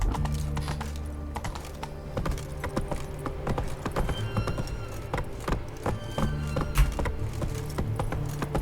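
Roach, a horse in the video game The Witcher 3, gallops along in a rapid repeating clip-clop of hooves over a low background, with brief voices and other game sounds mixed in.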